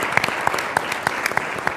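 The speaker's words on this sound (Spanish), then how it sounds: "un aplauso también para él por acompañarnos" Scattered, fairly sparse clapping from an audience at a Chilean science-policy forum, with individual hand claps standing out crisply over a steady wash of applause for under two seconds.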